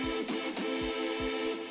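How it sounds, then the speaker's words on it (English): A supersaw synth preset built in Vital plays a bright, buzzy sustained tone, thick with detuned harmonics, over a low pulsing kick-like thump roughly every 0.4 seconds, loud and alone. "I wound up grabbing this supersaw preset that I've made in Vital,"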